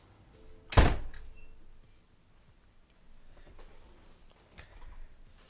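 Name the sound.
door closing in a visual novel game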